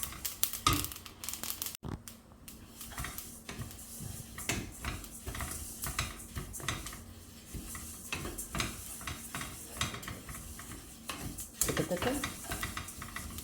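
Sesame seeds dry-roast in a pan for spice powder, a dense close crackle of popping seeds with stirring scrapes, steady throughout, while a voice briefly speaks over it.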